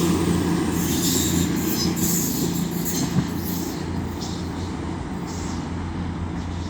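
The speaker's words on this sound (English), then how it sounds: "Now coming in is the 12:27 Avanti West Coast service from London Euston to Manchester Piccadilly." An Avanti West Coast passenger service from London Euston to Manchester Piccadilly arrives at Stoke-on-Trent station, with loud continuous rolling wheel noise and squealing from the rails carrying steadily through, close by.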